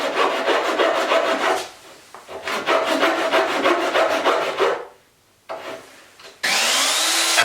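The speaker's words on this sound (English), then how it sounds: "taking a Japanese pole saw and cutting where the rabbet will end on each side" Japanese pull saw scoring white oak to mark the ends of a rabbet: two long runs of quick, rhythmic rasping strokes close to the mic, then a pause, a short burst of strokes and a final broad hiss.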